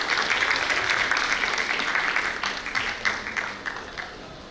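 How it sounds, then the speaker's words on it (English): A TiECON conference audience applauds a panel, the crowd's clapping loud and full at first and then thinning into scattered individual claps as it winds down. "Let's do a better job than that at applauding this wonderful panel."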